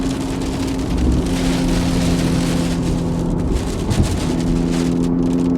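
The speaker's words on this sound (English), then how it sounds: "We might get out on the edge of the rain here" Steady rain drumming on a moving Porsche Cayman GTS 4.0, with a constant low road and engine hum and a dense hiss of water throughout.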